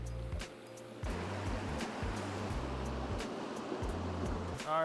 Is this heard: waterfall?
yes